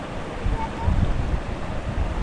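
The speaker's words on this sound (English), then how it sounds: "there's a big current coming through the lock" A strong water current surges through the Goolwa lock on the barrage that separates fresh and salt water, heard as a steady low rushing roar with surf and gusty wind buffeting the microphone.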